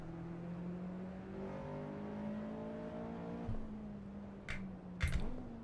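Simulated car engine in Assetto Corsa EVO at Fuji Speedway, a steady droning note that holds through the clip, then two short bursts of revving near the end.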